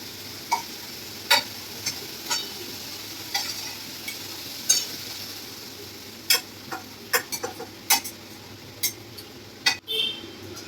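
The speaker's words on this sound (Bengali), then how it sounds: "আমাদের প্যানকেকের একটা দিক ভাজা হয়ে গেছে, আর একটা দিকও আমরা সেম প্রসেসে ভেজে নেব।" A pancake frying in a pan gives a steady soft sizzle, broken by scattered sharp ticks and light clicks at irregular intervals.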